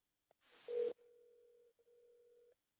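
Ringback tone of an outgoing phone call: a brief click and burst of noise, then a steady tone that holds, pauses briefly and resumes, fairly faint and with no talking.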